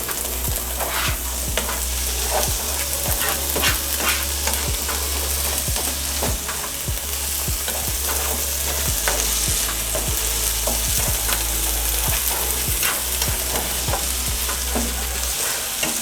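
Onions fry in a pan on a kitchen stove burner with a loud, continuous sizzle and crackle, broken by repeated sharp scraping and stirring knocks, with no talking.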